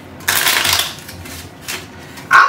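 Playing cards being shuffled by hand at a table, two quick riffling bursts separated by a short pause, close and fairly loud with no talking.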